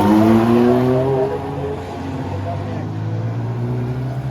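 Classic race cars, a Datsun and an E36 BMW, roar along a street circuit, engines loud and sustained with a steady drone throughout, an announcer talking over the noise.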